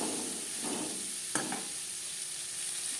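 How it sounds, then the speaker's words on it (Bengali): Stalks with salt and turmeric sizzle in a hot pan, with soft stirring sweeps and one sharp scrape of the spatula against the metal. "লবণ হলুদ ডাঁটার সাথে বেশ ভালো করে মিক্স করে দেবো।"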